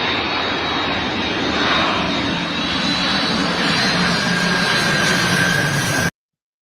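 An airplane flies overhead near an airport, its engine roar loud and steady for about six seconds with a faint whining tone, then cutting off abruptly; no talking.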